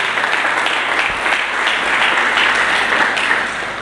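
A church congregation applauds during an Indonesian sermon, a loud, steady wash of many hands clapping that holds evenly for several seconds with no talk over it.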